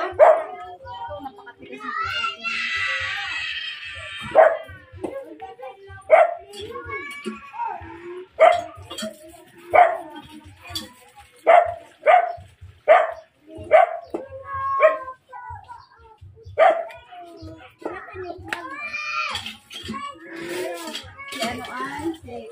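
Two dogs barking in a series of sharp, close barks and yips spaced a second or two apart, with children's voices and talk around them.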